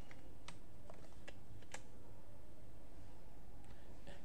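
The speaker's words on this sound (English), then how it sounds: "then you're going to type in this code" Computer keyboard typing a terminal command on a Linux machine: a handful of scattered, quiet key clicks over steady background hiss, no talking.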